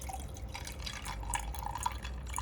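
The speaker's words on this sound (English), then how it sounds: "Now I'll pour a bit of my lemonade." Lemonade being poured into a glass for a minty iced lemonade, a steady soft trickle of liquid with small drips and splashes, close and fairly quiet.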